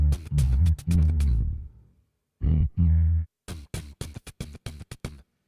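A voice imitating a punchy kick drum through vocal distortion and EQ, with heavy, low, clipped thumps in short bursts, then a quicker run of sharp repeated hits.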